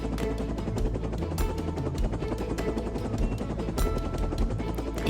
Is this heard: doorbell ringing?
no